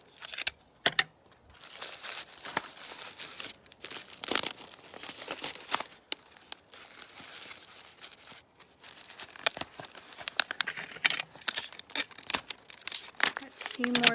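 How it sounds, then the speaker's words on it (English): Paper flames cut for a rocket craft are fastened with tape, giving repeated crinkling, tearing and rustling up close through the whole stretch, with speech mixed in at times. "So I'm going to tape those down real quick."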